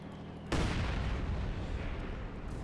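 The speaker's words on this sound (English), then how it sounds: "Soviet mortar shots going in." Soviet mortar fire in the strategy game Company of Heroes 2, a sudden loud boom about half a second in, followed by a rumbling, sustained roar of impacts and debris that lingers to the end.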